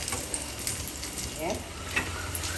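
Green banana bonda, made from Robusta banana coated in gram flour batter, fries in hot oil with a soft, continuous crackling sizzle and a few light stirring clicks, fairly quiet and close.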